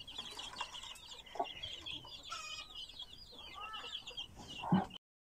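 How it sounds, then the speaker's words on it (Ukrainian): A small bantam hen clucks softly among her chicks while they peep in quick, high chirps throughout, with a few louder close calls near the end before it cuts to silence. "Прийшла маленька бентамочка, привела своє стадо курчат і нянче у цих малесеньких всіх."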